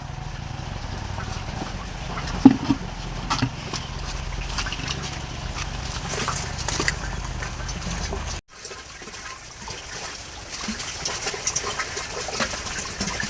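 Water runs steadily into a container with a constant splashing, trickling rush, briefly cut off midway before resuming.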